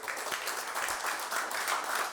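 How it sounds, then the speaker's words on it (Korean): Brief audience applause at the opening of a regional association's leadership retreat, a soft, steady patter of clapping from a modest crowd heard at a distance. "박수 한번 치죠"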